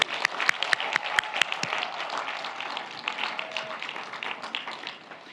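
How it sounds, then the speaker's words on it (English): At a university commencement ceremony, a few sharp, distinct claps open, then a broader round of audience applause for graduates follows, moderately quiet and even throughout. "Let's give them all a warm round of applause."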